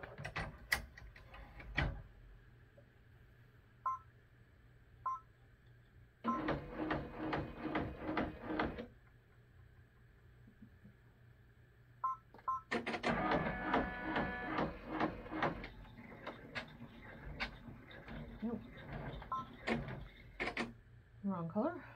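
An embroidery machine stitches a bean stitch line in two mechanical bursts of a few seconds each. Quieter clicks and handling noises fall between and after the runs, and a person speaks softly at times.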